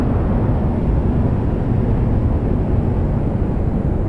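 An airplane takes off in the video game Kerbal Space Program, its engine a loud, steady roar that holds unbroken throughout with no talking.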